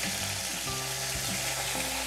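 Spices sizzle and fry in a hot pan of oil with cumin, ginger and cumin paste for Bengali eggplant posto, a steady close crackle with faint stirring scrapes throughout.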